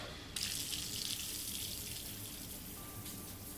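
Cold water pours from a pool-side shower, a steady hissing spray that starts abruptly after a brief quieter moment and then runs continuously, close and alone.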